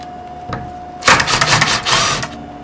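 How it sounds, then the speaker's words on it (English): A drill bores straight down through a board, a short tap followed by a loud, rattling whir that surges and fades over about a second and a half, with no talking. "we're going to drill straight down."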